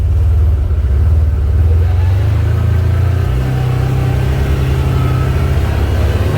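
A CFMoto UForce side-by-side pushes through boggy, flooded bush ground with a loud, close, continuous low engine drone and rumble that holds steady the whole time, with no one speaking.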